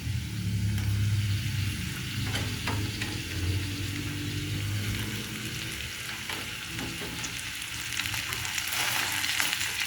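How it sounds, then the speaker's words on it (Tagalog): Bitter gourd (ampalaya) frying in a pan, a steady close sizzle with occasional stirring scrapes and a low background rumble throughout. "Ayan mga idol at lalagay na natin ang ating ampalaya."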